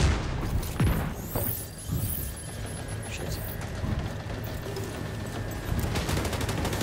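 Turret gunfire in the video game The Secret World during a raid: continuous rattling, booming fire with mechanical clatter and scattered impacts, steady and dense throughout, and voices faintly mixed in.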